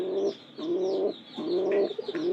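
Pigeons coo inside their new loft in a string of three or four close, low, throaty calls with short gaps between them.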